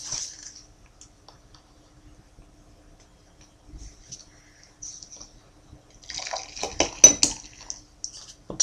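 A smooth 4% stout, Bath Ales Dark Side, is poured into a glass, with quiet, sparse glassy clinks early on and a brief, busier splash and trickle of liquid near the end in an otherwise hushed room.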